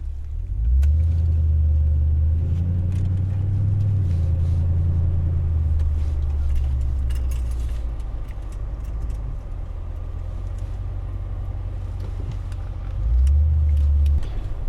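A car driving along, heard from inside the cabin: a steady low engine and road rumble that swells twice as the car accelerates, with a few faint clicks and rattles over the drone.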